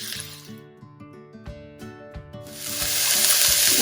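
Onions, peppers and celery sauté in olive oil in a pan, a soft sizzle broken by spoon stirs that swells into a loud, steady hiss in the second half, with a faint musical tone underneath.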